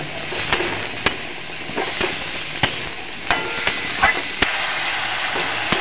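Pumpkin sautés in spice masala in a pan for a Bengali vegetarian curry with potato and pointed gourd. A loud, steady sizzle runs throughout, broken by regular spatula taps and scrapes.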